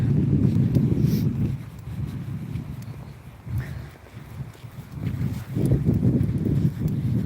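Steady gusting wind buffets the microphone, a low rumbling roar that swells and eases, briefly dipping before picking up strong again.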